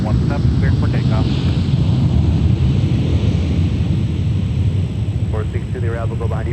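A Delta airliner on its takeoff roll from runway 17 at MSP airport, a loud, steady broadband engine roar filling the whole stretch, with radio voices cutting in over it.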